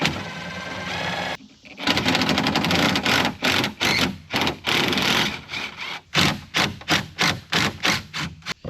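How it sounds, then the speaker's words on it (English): A 1/4 inch impact driver backing out hardware screws on a 25-year-old truck, with loud sustained rattling hammer bursts followed by a series of short, choppy impact pulses separated by brief pauses. "Be using this 1/4 inch impact to take off all my hardware here."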